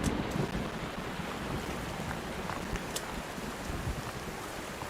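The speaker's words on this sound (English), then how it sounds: "Instead I get rain. Perfect." Steady rain in the video game Sons of the Forest, a continuous broadband hiss of rainfall with a few faint taps, heard alone without talk.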